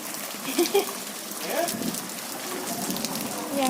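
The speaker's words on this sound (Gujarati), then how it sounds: "જોવો કેવો વરસાદ પડે છે" Rain falls steadily outdoors in windy weather, a continuous hiss of drops on surfaces with a few faint tonal sounds mixed in.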